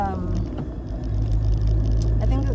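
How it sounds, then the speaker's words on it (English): A car's engine rumbles low and steady from inside the cabin, with a catalytic converter suspected to be failing, as a voice briefly overlaps near the start. "And I think that sound on my car, I think that's like the catalytic converter."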